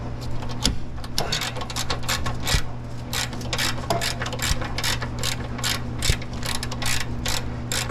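An extendable ratchet clicks rapidly and repeatedly while loosening a bolt during a rear toe link install on a Lexus SC300/SC400, a close, busy run of sharp pawl ticks over a faint hum.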